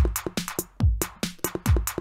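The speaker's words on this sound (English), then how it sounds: "But then you can delete every second kick drum." Programmed electronic drum beat in Ableton Live at 140 BPM with every second kick deleted, giving a half-time feel: punchy kicks and crisp hi-hats and snares repeat in a tight loop, loud and alone with no talking.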